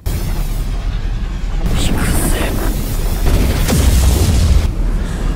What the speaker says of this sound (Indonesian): Yusuke lalu melepaskan tembakan energi roh itu.